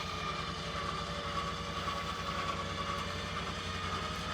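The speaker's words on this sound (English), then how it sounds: "Try with just the winch to start." An OpenRoad 4500 lb ATV/UTV winch spooling synthetic rope, pulling steadily with a continuous low motor drone and a faint high whine, unbroken throughout and close by.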